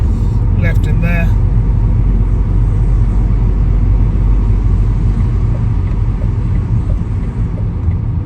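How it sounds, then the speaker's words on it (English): A car rolls slowly into a car park after flooding in the Norfolk Broads, a steady low engine rumble and road noise close by throughout, with a brief higher sound near the start. "We'll pull into the car park and see if there's anything left in there."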